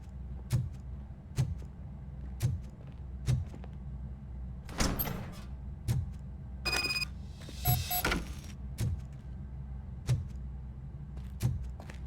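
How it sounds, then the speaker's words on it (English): A door opens in RoboCop: Rogue City: a mechanical sliding rush with metallic clunks and beeps mid-clip, over steady rhythmic thuds of heavy footsteps. "Now let me get that door open for you."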